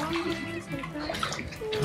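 Water gushes steadily into an inflatable pool, a continuous rushing splash that fills the whole moment, with faint voices of adults and children in the background.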